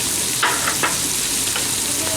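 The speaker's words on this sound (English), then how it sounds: "she's going to put the garlic, the liquefied garlic as well. You must to fry it a little bit, not too brown." Liquefied garlic fries in a pan with a steady close sizzle, broken by a few brief utensil scrapes or stirs.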